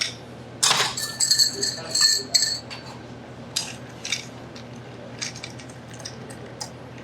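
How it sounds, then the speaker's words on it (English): Bar spoon stirring a whiskey cocktail made with Buffalo Trace in a glass with ice: a burst of bright clinks and rattles, then scattered softer taps fading out. "We're just going to give this a stir."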